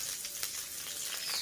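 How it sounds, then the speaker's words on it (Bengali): Crushed garlic and slit green chillies fry in mustard oil, giving a soft, continuous sizzle with small crackling bursts, fairly faint and without voices. "দিয়ে ভালোভাবে ভাজা করে নেব রসুনটাকে"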